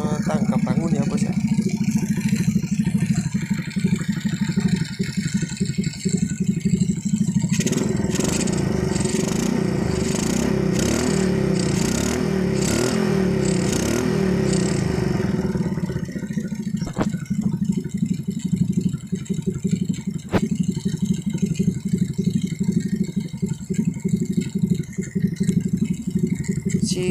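Honda C70 motorcycle engine with a normally running carburetor, idling steadily and close by with a continuous low throb, a rougher revving stretch in the middle, then settling back to an even idle.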